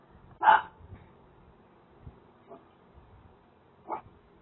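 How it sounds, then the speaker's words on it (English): A dog gives a few short barks in a quiet room, one louder bark followed by two fainter ones spaced apart. "my dog is barking noisy"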